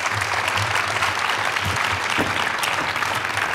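An audience at a keynote presentation claps steadily, a dense continuous round of applause at even loudness throughout with no speech over it.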